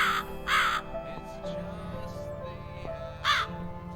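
Harsh crow caws from the rude bird in the video game The Cat Lady: two loud caws open, then quieter scattered calls, and one more strong caw near the end over a humming backdrop.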